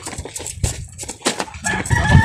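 Chickens on a farm near a flower garden: a few short clucks and squawks close by, irregular and overlapping, with no talking.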